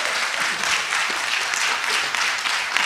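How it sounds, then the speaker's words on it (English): An audience at a national research festival gives the panelists steady, dense applause, many hands clapping at once in a continuous even roar close by, with no voices standing out. "A big clap for them."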